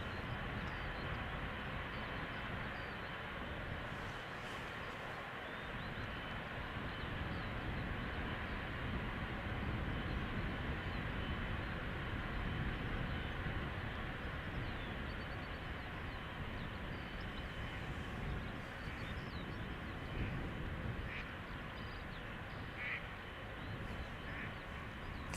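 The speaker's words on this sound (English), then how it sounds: "this 777 freighter from China Southern Cargo outbound to Shanghai is 3 years old" A three-year-old China Southern Cargo Boeing 777 freighter departing Amsterdam Schiphol, heard as a continuous, fairly faint broadband roar from a distance, steady for the whole stretch with a few brief small sounds on top.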